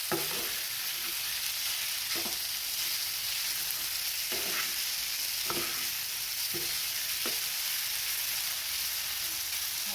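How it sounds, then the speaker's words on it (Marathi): Yogurt pulao being stirred and fried in a pan, with a steady sizzle throughout and several distinct scraping strokes of a spoon spaced every second or so, close and fairly loud, no talking. "छान मिक्स करून घेऊयात"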